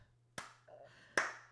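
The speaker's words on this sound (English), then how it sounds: "another hand clap." Two sharp, isolated hand claps ring out close and loud, nearly a second apart, each with a short decaying tail over a quiet background hum.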